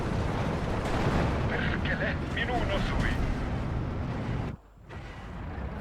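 In the strategy game Steel Division 2, artillery fire rumbles as a dense, booming barrage under a player's voice, then cuts out abruptly before distant battle noise slowly returns.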